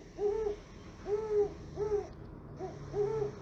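A toy owl gives a string of about five short, evenly spaced hoots, soft and near, with nothing else around them.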